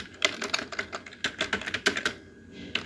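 A command is typed on a computer keyboard in Kali Linux, heard as about a dozen quick, crisp key clicks in an uneven rhythm, close and clear, with a brief pause near the end.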